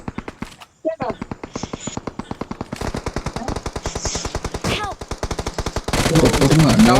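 Automatic weapons fire in the BGMI mobile game comes in rapid, close bursts of repeated shots with brief gaps. Players' voices are heard over the gunfire.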